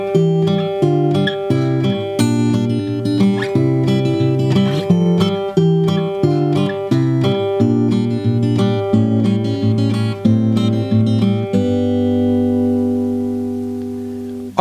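An acoustic guitar plays the chorus of a song, with fingerpicked notes and chords in a steady rhythm. The last chord rings out at the end. The playing is close and clear, with no voice.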